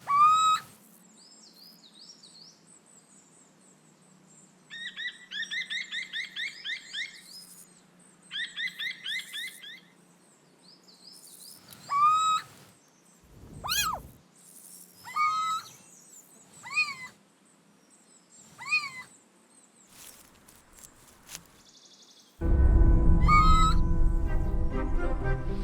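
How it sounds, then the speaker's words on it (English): Little owls in a Mediterranean olive grove give repeated cat-like mewing territorial calls, rising wavering notes in short bursts and single cries, close and fairly loud, with a sudden burst of broadband rustling noise at the end. "Both males and females emit a cat-like mew to warn other owls not to sneak across their borders"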